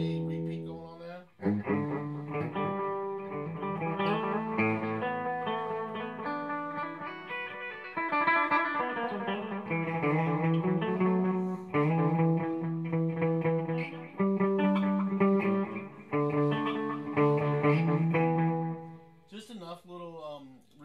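Electric guitar played clean through a TC Electronic Echobrain analog delay pedal, a continuous run of sustained chords and notes with light repeats, loud and close, ending in a brief pause before a final strum.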